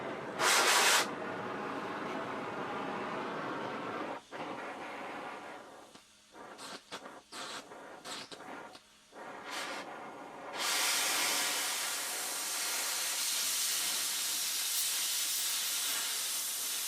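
Gas torch heating and cutting thin lawn mower blade steel, a loud steady roaring hiss that cuts off in several short gaps with a few taps, then resumes strongly and continues to the end.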